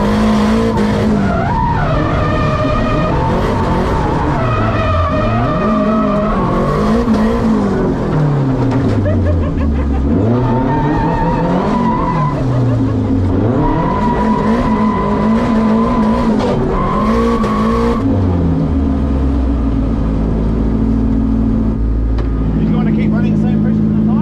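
A Toyota 86 drift car at a D1NZ pro sport round spins out, its engine revving up and down in repeated sweeping wails over a constant roar of tire skidding, then settling to a steady drone.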